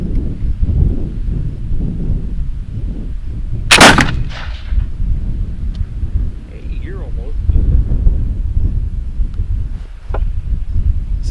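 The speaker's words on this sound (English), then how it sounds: "I'm going to shoot at the target on the right" Pedersoli Brown Bess flintlock musket fired outdoors at a target: one sharp, loud blast with a rolling echo, amid constant wind rumble and faint background voices.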